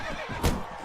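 A horse in Mount & Blade: Warband, modded with Perisno, lets out one brief, fairly soft whinny that rises out of a steady background hum.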